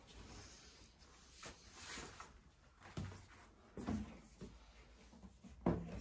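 Latches unlocked and the hinged lid lifted off a Magma Carry Lite XXL Plus case holding a Pioneer DDJ controller, giving a few sparse, quiet clunks and clicks against a low room background.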